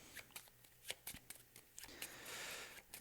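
Someone shuffles a deck of game cards at a tabletop game: quiet, close riffling and snapping in quick irregular bursts, with a brief sliding swish near the end.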